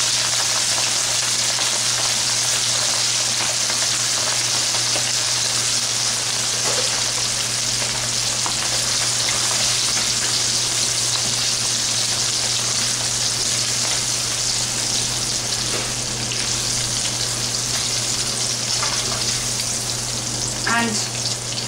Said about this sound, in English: now I'm going to slightly fry them